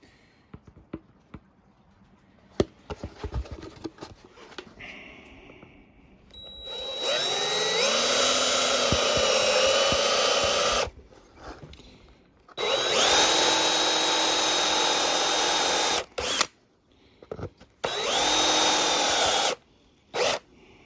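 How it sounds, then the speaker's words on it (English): A 3/4 inch hole is drilled with a step bit in three loud, close bursts of whining power-drill noise, each lasting several seconds. Short pauses separate them, and clicks and handling noises come before and between the bursts. "It needs to be drilled out to 3/4 of an inch. And I will use my step bit."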